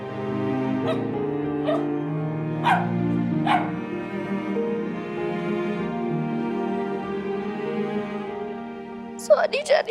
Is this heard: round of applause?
no